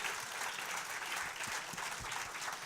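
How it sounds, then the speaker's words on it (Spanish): Steady, even applause from a congress audience, the many hands clapping continuously and evenly across the whole short stretch without any voices. "Démosle un gran aplauso de nuevo."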